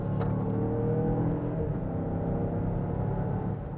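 A 2023 Mazda CX-9 Signature AWD crossover SUV engine revs up and accelerates hard in sport mode, a loud rising whir and rumble that holds strong throughout.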